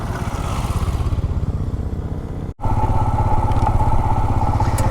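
A motorcycle rides along a road in Tanzania with a close, loud, steady engine drone and rumbling wind noise. A brief dropout cuts in midway, then the engine carries on evenly.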